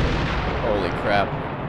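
A tank fires its cannon in a Vietnam-era war video game, a booming shot rolling over a steady noisy battlefield bed, with a second heavier blast swelling near the end.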